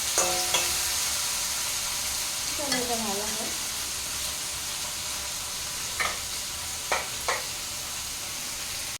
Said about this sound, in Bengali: এদিকে ডিমুরটা ভেজে নিচ্ছি